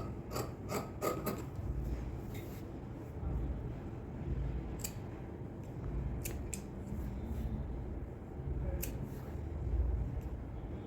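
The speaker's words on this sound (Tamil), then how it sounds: "கட் பண்ணி எடுத்துடுறேன்." Scissors cut a fabric strip for a V-neck blouse, several sharp snips and blade clicks coming in scattered clusters over a low rumbling background, no talking.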